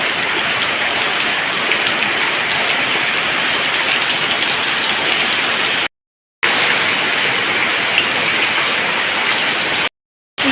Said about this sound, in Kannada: ಇವತ್ತು ದನಗಳಿಗೆ ಅಷ್ಟು ಜೋರು ಮಳೆ, ಎಷ್ಟು ಜೋರು ಮಳೆ ಅಂದರೆ ಅಂಗಳ ಎಲ್ಲ ಕೆರೆ ಆಗಿದೆ